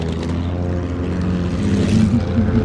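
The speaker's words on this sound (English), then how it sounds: "There's a plane." Propeller fighter plane from the video game Battlefield 1 droning steadily overhead, a continuous engine hum with a slight swell toward the end, heard alone.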